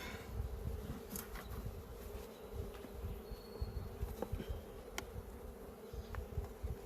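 A steady, faint hum of many honey bees buzzing close by at a hive, with individual guard bees droning past now and then over the constant swarm drone.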